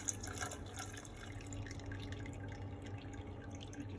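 Wort draining from a lifted grain bag back into the brew pot during home brewing of an Oktoberfest beer, a soft continuous trickle with scattered drips, close and quiet with no talking.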